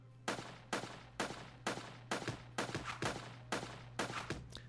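A machine gun in the video game Judgement: Apocalypse Survival Simulation fires in short bursts of about ten sharp cracks with brief gaps between them, over a steady low hum.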